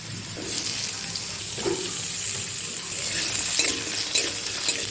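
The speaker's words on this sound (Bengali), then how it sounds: "গরম তেলের মধ্যে আলুগুলো দিয়ে দেব।" Diced potatoes drop into hot oil in a pan and fry with a steady, bright sizzle, close and continuous, with a few louder crackling bursts and stirring sounds.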